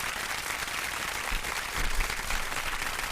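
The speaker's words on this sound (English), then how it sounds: "Give myself a round of applause." A crowd applauds steadily, a dense wash of clapping at moderate volume that holds evenly throughout without any voices.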